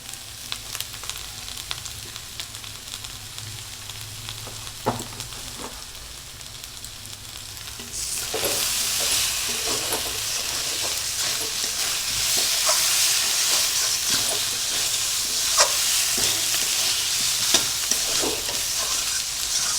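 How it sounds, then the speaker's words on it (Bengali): Potatoes with Kashmiri dried red chilli powder being sautéed for an egg and potato curry: quiet stirring and scraping at first, then a loud, steady close sizzle with occasional spoon clatter, no speech. "আলু দিয়ে কষিয়ে নেব।"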